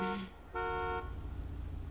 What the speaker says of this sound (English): We already went through a 15-minute horn honk.